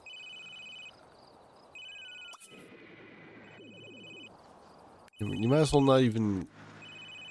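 Phone ringing in The Sims 3: short electronic ring bursts repeat several times against soft game music, with a voice talking and a louder chiming game sound near the end.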